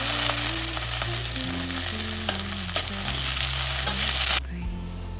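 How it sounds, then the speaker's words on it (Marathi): Chopped okra fries in hot oil in a pan, a continuous close sizzle and hiss with light stirring, over background music, ending abruptly near the end. "मग इथं त्यामध्ये जी भेंडी चिरली होती ती मस्त परतून घेतली आणि ह्याच्या वाफेवरती शिजवून घेतली ही इथे"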